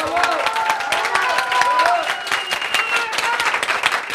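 Loud, close applause from an office award ceremony crowd welcoming Kerim Yavuz Uzun, dense rhythmic clapping throughout with cheering voices and tonal whoops mixed in.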